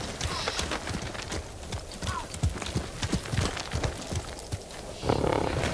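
Rhythmic horse hooves clip-clopping steadily, with a short neigh near the end, heard under game-like ambience and occasional low rumbles, from the video game Ghost of Tsushima.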